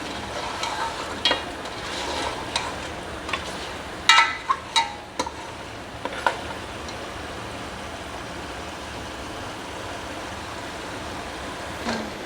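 Beef trotters (paya) frying in masala in a pot while being stirred, a steady low sizzle broken by a few sharp scraping clinks of a spoon against the pan, with no talk.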